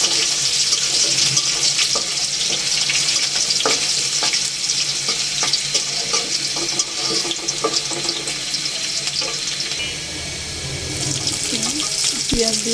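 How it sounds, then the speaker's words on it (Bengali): Onion and garlic fry in hot oil, a busy crackling sizzle close by with scraping stirs and clinks, fairly loud and continuous, with faint watery hiss underneath. "পেঁয়াজ দিয়ে দিলাম।"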